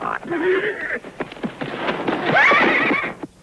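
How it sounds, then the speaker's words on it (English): A horse being broken in a western comedy setting neighs loudly with a long, shaky whinny while hooves clatter irregularly on the ground, close and prominent, with brief voice underneath. "All right, Dusty, I'm going to show you something about breaking a horse."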